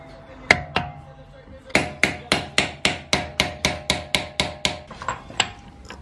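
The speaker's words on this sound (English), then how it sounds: "First thing we got to do is bang out these little tabs right here" A ball-peen hammer strikes a flathead screwdriver to bang out the small tabs on a BMW 335i differential axle nut, giving two sharp metallic hits and then a steady run of about a dozen evenly spaced, close, ringing blows.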